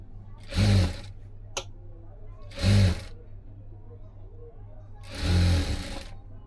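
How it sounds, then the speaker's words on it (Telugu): A sewing machine stitches cloth that is pulled taut to keep it free of wrinkles, running in three short separate bursts with pauses between them and a low steady hum underneath. "ఈ విధంగా క్లాత్ని బాగా లాగి ముడతలు లేకుండా మనము ఈ చివరి నుంచి కుట్టేసుకోవాలి."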